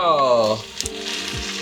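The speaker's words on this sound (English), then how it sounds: "Oh, so you hear that sizzle." A brief voice exclamation is followed by a soft, steady crackling sizzle of rice frying in sesame oil, close by and fairly quiet.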